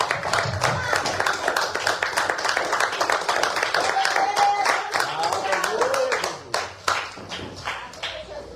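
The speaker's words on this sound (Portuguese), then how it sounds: "as palmas é para o Senhor Jesus" Church congregation clapping together in worship, a dense sustained patter of many hands that thins toward the end, with voices mixed in underneath.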